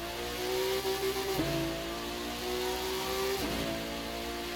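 A car's engine in The Crew 2 racing game revs up twice, each pitch climbing steadily before dropping sharply as it shifts, loud and close with steady mechanical drone underneath.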